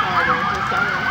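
A loud, close siren wails, its pitch sweeping up and down.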